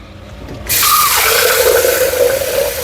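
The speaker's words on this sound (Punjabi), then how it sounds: "ਥੋੜਾ ਜਿਹਾ ਹੀ ਪਾਣੀ ਪਾ ਦਾਂਗੇ" After a brief quiet moment, spiced water suddenly gushes and pours loudly and steadily into a cooking pot of vegetables for pav bhaji, close by, with a rising filling tone.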